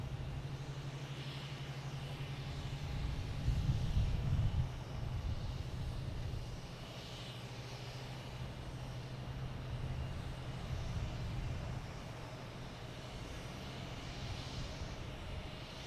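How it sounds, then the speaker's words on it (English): A JetBlue Airbus A321 takes off from Boston Logan, its jet engines giving a distant, steady rumbling roar that swells slightly, then carries on at a faint, even level. "next taking off, we have JetBlue heading to Orlando at A321"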